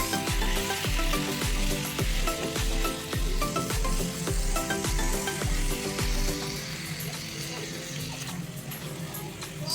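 One kilo of unmarinated chicken frying in a pot of oil for chicken biryani, a loud, steady sizzle with rhythmic stirring scrapes through the first six seconds before the sizzle settles down.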